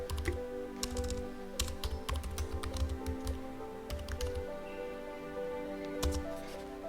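Fingers type on a computer keyboard in quick, irregular clusters of light clicks, close by and fairly quiet, with a steady low hum underneath and no voices.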